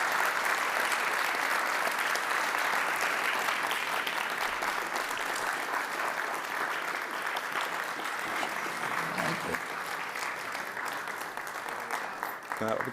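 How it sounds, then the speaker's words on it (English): Sustained audience applause fills a conference hall at a government science event, a dense steady wash of many hands clapping at even loudness throughout, with faint voices mixed underneath. "if you could join me in a round of applause"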